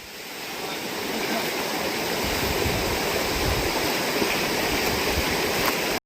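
Hidden waterfall and stream with water rushing loudly and continuously, a dense steady roar close by that fades in at the start.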